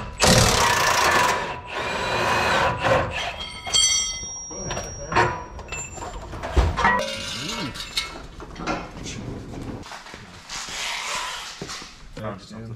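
Adjustable metric wrench turning on the traction bar bolts of a car: scattered metallic clicks, clanks and ratcheting scrapes up close, mixed with people talking in a garage.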